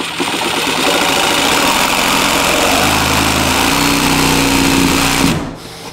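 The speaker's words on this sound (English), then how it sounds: "What I want to do is cut into the pipe. There, cut the fitting, but not the pipe." A power tool cuts through an ABS drain pipe fitting, running as a loud, steady whine for about five seconds, its pitch dropping slightly partway through before it stops abruptly near the end.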